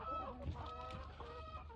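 Chickens clucking in a poultry setting, a dense, continuous mix of low clucks and throaty calls from several birds close by, steady and moderately loud throughout.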